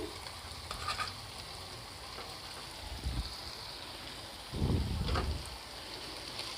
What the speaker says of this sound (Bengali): এবার আমি মাছের পেস্টটা দিয়ে দিচ্ছি